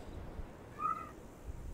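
A pet cat lets out a single short meow, faint and slightly distant, over a low steady room hum, with no talking.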